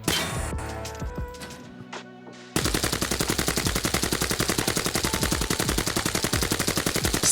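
A bullpup rifle fires in Arena Breakout Infinite: scattered shots and metallic clinks give way to a sustained, rapid, evenly spaced burst of loud automatic gunfire.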